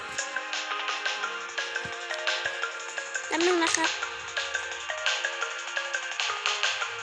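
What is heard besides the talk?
phone ringtone music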